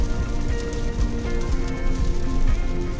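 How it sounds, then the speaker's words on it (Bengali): Heavy downpour heard from inside a moving car on a journey: dense, steady drumming of rain on the car body over a low road rumble, loud and continuous with no talk. "কিন্তু একদম মুষলধারে বৃষ্টি নেমে গেছে"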